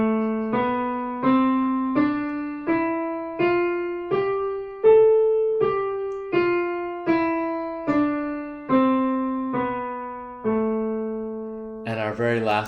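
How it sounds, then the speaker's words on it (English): A bright electronic tone steps through a natural minor scale up and back down, roughly fifteen steady notes, clean and solo, ending with a short noisy blip. "And now we're going to have natural minor."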